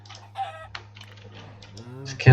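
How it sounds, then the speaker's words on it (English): Minecraft chickens cluck in short, sparse bursts against a steady low in-game hum, ending in a louder sudden hit. "Is there a chicken? There are chickens."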